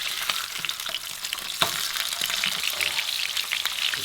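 Eggs, trout and mashed potato fry in a pan on a woodstove in an off-grid cabin, making a continuous close, bright sizzle with scattered crackles and an occasional stirring scrape.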